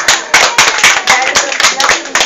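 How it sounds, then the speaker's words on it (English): A round of applause at a company presentation for Tiens in the United Kingdom: loud, near clapping in quick irregular bursts from a small group. "Let's give Michael a round of applause."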